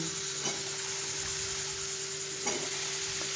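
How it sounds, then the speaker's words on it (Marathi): Pumpkin pieces dropped into a pan and sautéed with coriander, giving a steady low sizzle with a couple of soft clinks or stirring scrapes, heard alone with no talking. "कोथिंबीर चांगली परतून झाल्यानंतर आपल्याला ज्या काशीफळाच्या फोडी केल्या होत्या त्या संपूर्ण इथे टाकून घ्यायच्या आहे"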